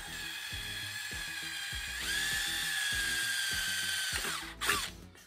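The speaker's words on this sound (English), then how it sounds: "I drill a 4mm hole through each of those" A power drill whines as it bores a 4mm hole through an RC car chassis, the motor pitch steady then dropping as it finishes, with rhythmic clicking underneath.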